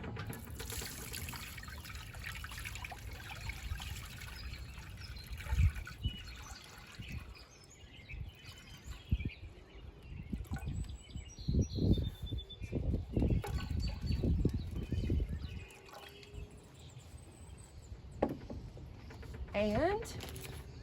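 Clean water is poured into an outdoor DIY bird feeding station, a soft trickling and splashing in bursts over quiet outdoor background with faint bird calls.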